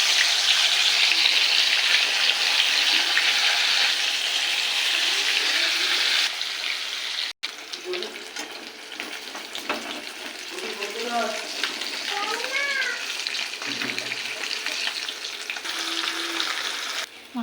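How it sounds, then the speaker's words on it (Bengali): Pieces of katla fish fry in hot oil in a wok, giving a loud, steady broadband sizzle that softens partway through while softer background sounds and faint voices continue. "তেল গরম হয়ে গেছে আর মাছগুলো দিয়ে দেবো"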